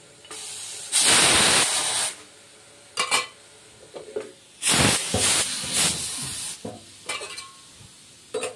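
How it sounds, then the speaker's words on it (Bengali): A pressure cooker vents steam after cooking bottle gourd: a loud, sharp hiss bursts out for about a second, then returns in several shorter spurts and one longer rush, separated by quieter gaps. "ততক্ষণে গ্যাসটা একটু বের হয়ে যাক"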